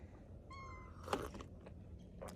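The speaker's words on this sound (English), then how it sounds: "Yep, that little meow though." A cat gives a short, thin meow outdoors on a chilly, windy morning, standing out briefly over steady wind noise, followed by faint rustling and small scattered sounds.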